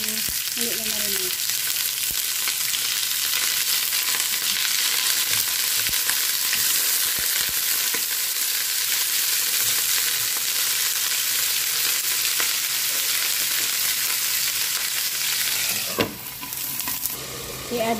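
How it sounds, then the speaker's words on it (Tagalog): Plain chicken pieces fry in a pan with steady, loud sizzling that fills the whole stretch, with a brief clatter or shift near the end. "Ilagay natin ang ating chicken"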